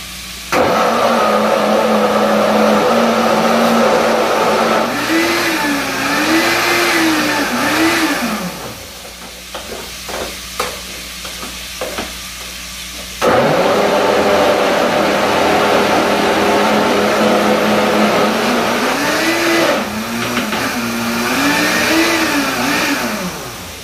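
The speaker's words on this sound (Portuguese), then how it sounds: "Vou bater aqui para deixar aquela pastinha" A kitchen blender whirs loudly while blending a paste, running in two long bursts with a short pause between them, its motor pitch wavering as the load shifts.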